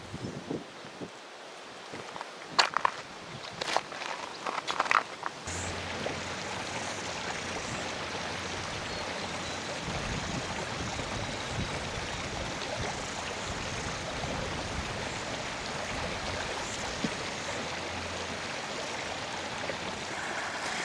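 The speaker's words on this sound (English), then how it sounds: "I'm in this river somewhere here in North Canterbury" River water in North Canterbury rushes and gurgles steadily around someone wading through it, a close, continuous flow that follows a few brief splashes and knocks.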